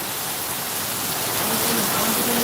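Heavy rain pours down in Hyderabad with a flooded road nearby, a thick, constant hiss of downpour that holds loud and even throughout, with no voices.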